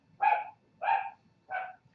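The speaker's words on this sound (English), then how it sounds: "Oh good, my dog's gonna bark." A dog barks three times in an even rhythm, each bark clear and moderately close, with quiet background between them.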